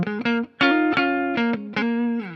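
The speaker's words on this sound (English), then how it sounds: "as far as clean tones go, this neck pickup is really deep sounding" A 2011 Gibson Les Paul Lou Pallo signature electric guitar plays a clean tone through its neck pickup, a short sequence of distinct plucked notes, close and clear, with no talking.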